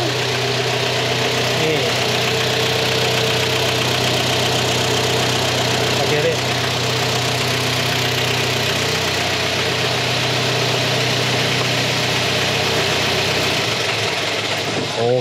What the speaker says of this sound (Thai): ดังเสียงเทอร์โบครับ